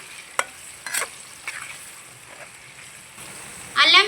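Green chillies with a pinch of turmeric frying in oil for a mutton liver fry, stirred with a few scraping strokes over a steady sizzle, ending in a louder burst of spluttering.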